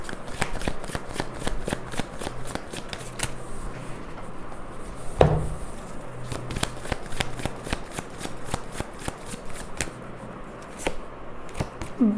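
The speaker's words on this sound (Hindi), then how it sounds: "tarot cards" Tarot cards being shuffled by hand, a steady run of crisp riffling and slapping card sounds close up, with one louder knock midway and no talking.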